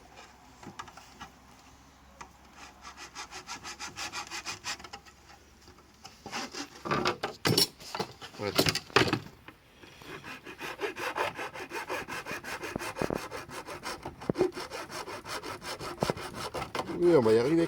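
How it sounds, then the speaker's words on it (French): Repeated rhythmic strokes of a hand saw with a concrete saw blade rasping through hard material, starting slow then speeding up, with a brief spoken word. "Donc là, je vais attaquer à la lame de scie à béton."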